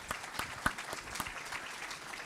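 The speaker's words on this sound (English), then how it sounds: "Round of applause for that." Scattered, fairly light clapping from a modest audience at a tech event greets an award for a cell imaging product, individual claps standing out distinctly and irregularly.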